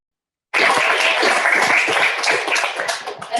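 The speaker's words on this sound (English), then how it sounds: "give another big round of applause for our student leaders, peer mentors" Applause for student leaders and peer mentors at a university changemaker celebration, a dense, loud burst of many hands clapping that starts abruptly after a short silence and carries on steadily without talk.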